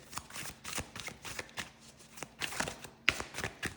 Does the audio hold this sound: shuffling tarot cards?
yes